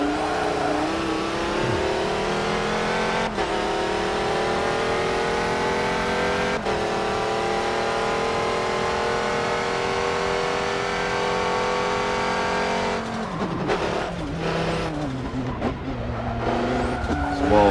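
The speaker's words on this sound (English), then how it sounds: "While practicing this Audi that I'm driving" An Audi race car in Forza Motorsport 7 drones at high revs at Sebring, engine note steady and close with brief shifts, then a rougher stretch with gear changes and tire noise near the end.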